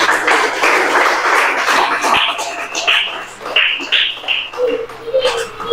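Audience clapping in a Tamil community college gathering, a broad patter of hands filling the room with some crowd murmur, rising and falling steadily without speech.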